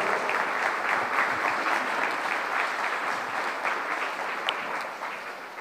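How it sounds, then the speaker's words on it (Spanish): An audience at a school tribute ceremony claps warmly and steadily for several seconds, a dense, even applause that fades slightly toward the end. "quien pedimos un fuerte y caluroso aplauso"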